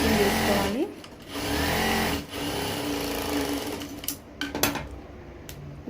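Sewing machine stitching the lining of a peplum top, a loud close rattling hum in steady bursts with short pauses between runs.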